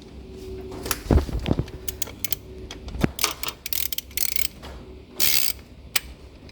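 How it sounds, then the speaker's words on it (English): Sharp mechanical clicks and rattles from a roadster's wire wheel locking into place, several irregular snaps with scraping metal in between, close by. "You can hear that click when it locks in place."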